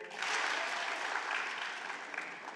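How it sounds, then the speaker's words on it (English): An audience at a city State of the City event in Newport News clapping together, a dense sustained burst of applause that swells early and slowly tapers over a couple of seconds, with no speech over it. "We can give him more than one clap."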